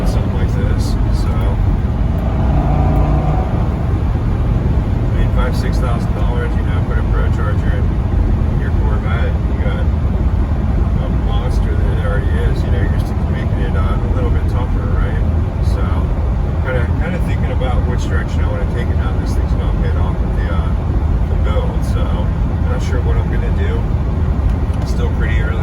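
A manual base C6 Corvette with an LS2 V8, heard from the cabin: a continuous, loud engine roar with rumbling lows running the whole time, and someone talking over it throughout.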